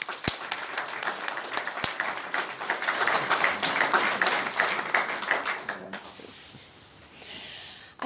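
An audience gives a warm round of applause after a talk about ayahuasca tourism, a dense patter of clapping that holds steady for several seconds before thinning out and fading near the end.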